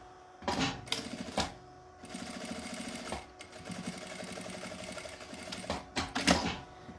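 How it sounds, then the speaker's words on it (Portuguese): A sewing machine with its presser foot stitches a straight seam on fabric for a multipurpose organizer basket. It runs in close, rapid bursts of mechanical clatter with short pauses between them, and no one speaks. "aqui a gente vai costurar com um pé de máquina"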